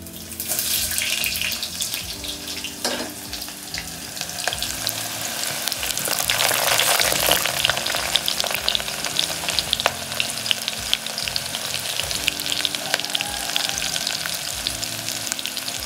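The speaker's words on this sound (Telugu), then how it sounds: "ఇప్పుడు ఉల్లిగడ్డ వేసుకుందాం." Chopped onions fry in hot oil in a home kitchen pan for a prawn fry and rasam, giving a loud, steady crackling sizzle with scraping and stirring throughout, and a brief burst of water running partway through.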